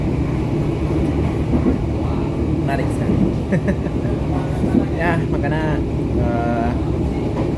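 Steady low rumble and rattle of the Serayu passenger train in motion, heard from inside the carriage, continuous and fairly loud, with a person speaking over it.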